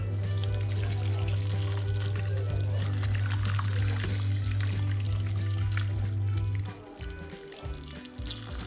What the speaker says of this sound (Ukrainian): Заливаємо водою.